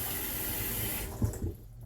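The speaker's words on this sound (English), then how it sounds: "I'm just going to put a little bit of cold water in because we want it to be tepid" Cold water running from a kitchen tap into a sink for washing raw chicken, a steady broadband hiss lasting about a second before cutting off, leaving a few faint clunks.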